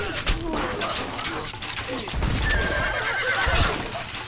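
Horses of horse archer units in Stronghold Crusader neigh and whinny over a busy battle din with clip-clopping hooves, while game voices speak throughout.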